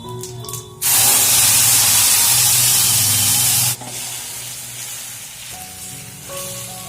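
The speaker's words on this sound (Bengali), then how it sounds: "আর এবার আমি যেটা পেস্ট করে রেখেছিলাম এই পেস্টটা দিয়ে দেবো।" A loud burst of sizzling erupts as spice paste hits hot oil, hissing strongly for a few seconds before settling into a quieter, steady fry.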